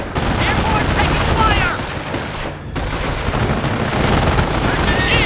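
Dense gunfire and machine-gun bursts crackle with booming explosions in the Company of Heroes mobile game during the Normandy invasion, a loud continuous battle din with soldiers shouting over it.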